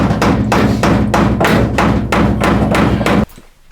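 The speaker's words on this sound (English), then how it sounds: "I just got a little hammer here. Kind of wish I had a smaller one, but I don't. And I'm just popping that in there." A small hammer taps a shock part into an LG ventless washer-dryer, seven sharp, evenly spaced metallic knocks close up, ending abruptly.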